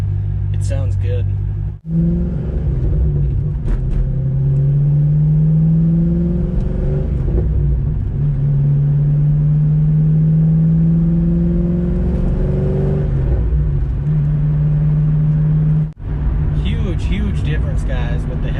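A C5 Corvette fitted with new headers and an X-pipe cruises and shifts, its exhaust droning loudly and rising in pitch through each gear before dipping at the shift breaks, with a brief pause near the end.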